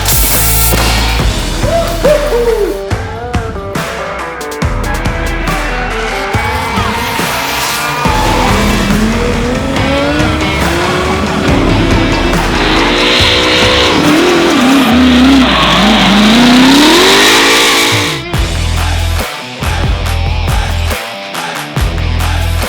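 A Ford AU Falcon drifts at Winton Raceway, its engine roaring and revving hard while the tires squeal and skid in long sweeping wails, loud and close throughout with no speech.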